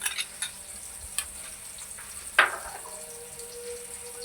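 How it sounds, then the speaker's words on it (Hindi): Ghee hits a hot pan with one sudden sizzle that rises sharply and then fades into a soft, steady crackle, close up, with no talking and a few light clinks just before it. "ये 2 चम्मच मैं घी डाल रहा हूँ"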